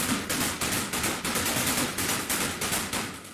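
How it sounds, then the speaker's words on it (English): Dense, noisy percussion hits in a fast rapid-fire pattern, with a sweeping, whooshing flanger swirl running through the whole loud passage. "I'm going to do the exact same thing with the flanger. So this is what it sounds like."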